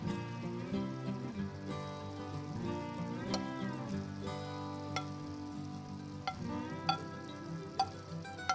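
Hilsa fish frying for khichdi, with a soft sizzle under repeated stirring clinks and scrapes of a utensil against the pan, intermittent and close.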